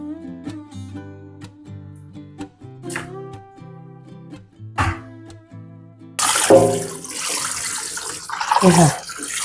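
Tap water gushes loudly over boiled Betong rice noodles for the last few seconds, following a stretch of soft tonal music with no running water.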